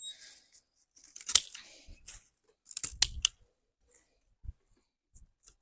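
Pruning shears snip through rose stems while the bushes are cut back for winter, giving several sharp, close clicks and rustles separated by short silences.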